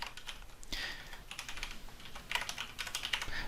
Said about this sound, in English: Just type this in.